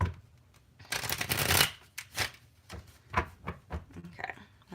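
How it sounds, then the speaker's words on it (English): Tarot cards being shuffled by hand, a close riffling burst followed by several shorter crisp shuffles and slides, with no talking. "now let's get your tarot cards. Try to shuffle on camera"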